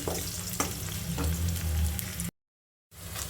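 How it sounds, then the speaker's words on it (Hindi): Tempering for kadhi frying in oil in a kadhai, with dried red chillies and garlic, a loud, dense, close sizzle with stirring scrapes that cuts out abruptly for about half a second before resuming. "तो इसी में मैंने कढ़ी फ्राई करने रखी है, तो जल्दी से कर लेती हूँ।"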